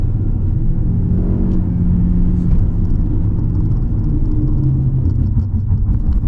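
A 2019 Toyota Camry rolls over a road hump, giving a steady low rumble of road and suspension noise with a soft thump, and the engine hum stays even throughout.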